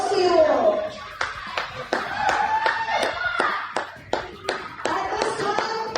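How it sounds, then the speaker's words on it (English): Applause breaks out at a Festival of Football rugby match between the NZ Iron Blacks and the Australia Outbacks: scattered, uneven hand claps close by rather than a dense roar, with children's voices and chatter mixed in. "A round of applause to you all."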